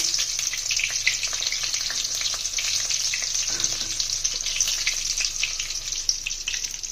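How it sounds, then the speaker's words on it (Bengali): Marinated chicken pieces fry in hot oil in a wok for chilli chicken, giving a steady, close, bright sizzle that runs the whole time with no talking. "তেল গরম হয়ে গেছে ম্যারিনেটেড চিকেনগুলো ভেজে নেবো"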